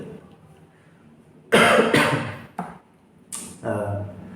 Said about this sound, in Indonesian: Maaf teman-teman, batuk sedikit